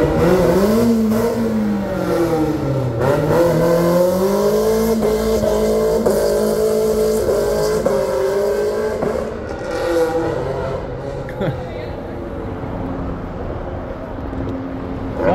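A car burning motor oil revs loudly on an outdoor street in Old Town Sacramento, its engine note swelling and dipping in repeated waves for about fifteen seconds, close and dominant.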